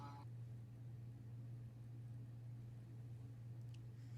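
A bug spray truck running through an Arkansas neighborhood outside, heard as a steady low engine drone with continuous broadband hiss, muffled and constant across the clip.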